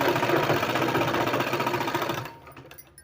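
A sewing machine runs steadily for about two seconds while stitching a small child's kurta, a fast close mechanical whirr that slows and stops, followed by a few faint clicks.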